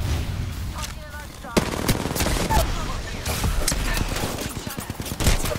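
Rapid bursts of video game gunfire crackle nearly nonstop, with sharp impacts and explosive thumps layered over dense in-game noise, loud and close throughout.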